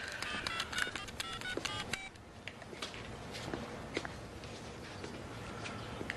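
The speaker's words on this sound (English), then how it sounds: "Make your phone call." A telephone number is dialed, producing a quick series of short, near keypad tones in the first two seconds, followed by quieter room ambience.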